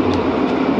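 Leipzig's number 11 tram gives a steady close rumble and rolling hum, broadband and continuous, with faint high clicks of wheels on rail and no talking.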